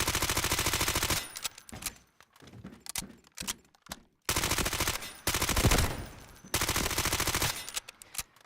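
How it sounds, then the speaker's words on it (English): An automatic weapon in a Rockstar video game fires in long rapid bursts, loud and close, separated by short pauses and a few single shots. "It's like when I'm firing the weapon, it's weird"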